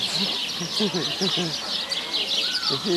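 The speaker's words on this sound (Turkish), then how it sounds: "Evet, kuşlar." Birds chirp and twitter in a busy high chorus close by, with short low voiced sounds underneath.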